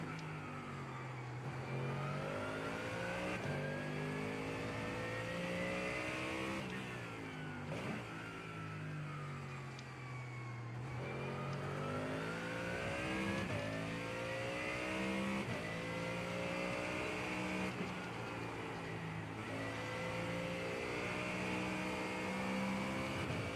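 Race cars in the iRacing sim at Circuit of the Americas, engines revving and shifting up and down through gears in repeated sweeps, a continuous near engine note with other cars faintly around.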